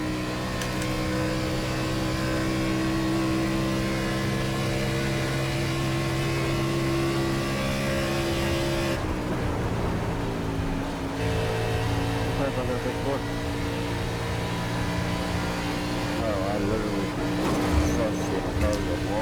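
A NASCAR race car engine in the iRacing video game, Auto Club track, drones steadily at high revs, with a sharp shift in pitch midway as the car changes speed, while a voice talks over it.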